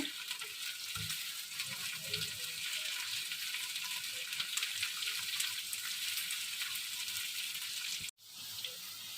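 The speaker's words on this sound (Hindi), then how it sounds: "इस वक्त हम भिंडी फ्राई कर रहे हैं।" Okra (bhindi) frying in a pan for a bhindi gosht dish, a continuous close hiss and sizzle with faint stirring sounds, briefly cut off near the end before resuming.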